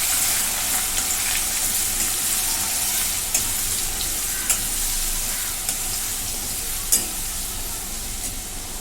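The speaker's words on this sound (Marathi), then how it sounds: "आता याच्यात मिरची आणि लसूण ह्याची पेस्ट टाकून घेते भाजून घेते" Chilli and garlic paste frying in a pan with cumin, mustard seeds and curry leaves, a steady close broadband sizzle throughout with a few soft clicks of stirring.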